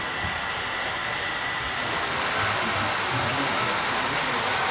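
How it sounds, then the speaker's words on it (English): Union Pacific model train running on a layout at a model railroad museum, a continuous rolling rumble with a faint metallic hiss, steady and moderately quiet throughout, no talking. "this is our super train we get"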